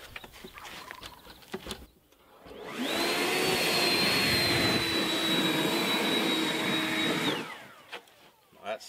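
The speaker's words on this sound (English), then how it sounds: "I'm going to blow it off with the leaf blower" A leaf blower roars to life, holds a loud, steady whine for several seconds, then winds down, with quieter background noise before and after.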